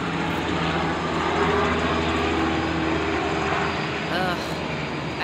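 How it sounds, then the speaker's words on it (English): A helicopter roars overhead in a loud, steady engine rumble that holds for several seconds, with faint voices underneath. "I love watching those helicopters go off."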